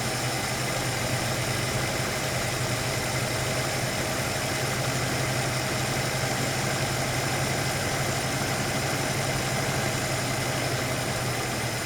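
Ford Capri Mk I 3000 GT XLR engine idling during carburettor mixture adjustment: a steady, close, unbroken idle with a low rumble and a constant mechanical hum, even in level throughout.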